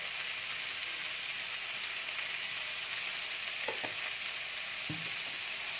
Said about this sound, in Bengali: এটা একটু আমি ভাজতে দেবো। এটাকে এর মধ্যে একটু নুন দিয়ে দিচ্ছি।